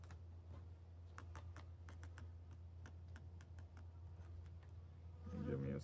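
Winter honeybees buzz steadily inside an opened hive during winterizing with a shim, a low continuous hum close to the ear, joined by faint clicks and a brief louder burst of buzzing near the end.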